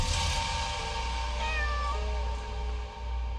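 A cat in the horror video game Layers of Fear: Inheritance gives a couple of drawn-out, wavering meows over a low, steady ambient drone, with nobody talking.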